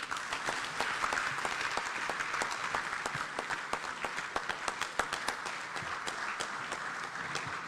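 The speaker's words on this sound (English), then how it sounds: "A round of applause for the Chief of Staff of the Republic of Ghana, the Honorable Dr. Julius Deborah, for the very bold statement" A conference audience applauds steadily throughout, a dense continuous wash of many hands clapping with sharper individual claps standing out, at an African inter-parliamentary gathering in Ghana.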